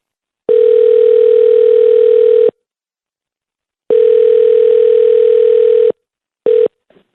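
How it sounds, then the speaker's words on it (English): Telephone dial tone from an outgoing call: a steady, loud ringback tone repeating in long bursts of about two seconds separated by silence, then a short third burst cut off. "You dial. I'll talk if he answers."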